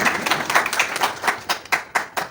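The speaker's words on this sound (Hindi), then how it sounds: "तालियां सभी की ओर से बजती रहना चाहिए।" An audience at a laminates dealers meet in Indore claps for guests, a close, fairly loud burst of hand claps in an uneven rhythm that thins toward a few separate claps at the end.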